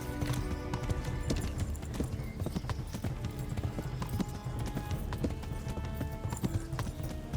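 Rapid rhythmic hoofbeats of a galloping horse in the video game Kingdom Come: Deliverance, loud and close, continuing without a break over a low background rumble.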